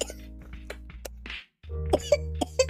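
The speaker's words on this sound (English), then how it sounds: "That's just a normal kid's coughing when they're asleep." A sleeping child coughs several times in short, sharp bursts, with a brief quiet pause before more coughs follow close by.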